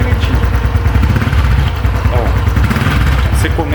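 A Honda Biz or Pop 100 motorcycle engine running with a worn cam chain, a steady close idle with rapid mechanical knocking and brief throttle blips, while someone talks over it.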